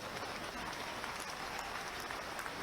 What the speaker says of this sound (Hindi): तो इस पे तो जोर से ताली बजाओ ना।